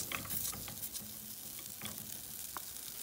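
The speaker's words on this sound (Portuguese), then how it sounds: "A gente vai colocar nossa manteiga." Butter sizzling in a hot pan while making ham and cheese pasta, a steady crackling fry with scattered pops and light stirring, close and moderately loud, with no voices.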